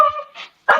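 A dog barks close by, loud and sudden: one whining yelp followed by a quick, sharp bark, all within a second.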